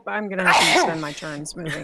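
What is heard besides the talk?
sneeze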